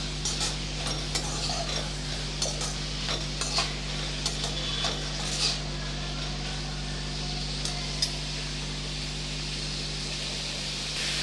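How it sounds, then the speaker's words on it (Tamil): Brinjal (eggplant) sautéing in a pan for a thokku side dish, a steady hiss of frying under a constant background hum, with faint, irregular stirring scrapes and taps throughout. "கொஞ்சம் கத்திரிக்காய் நல்லா கலர் மாறுற வரைக்கும் நல்லா வதக்கி விட்டுறலாம்."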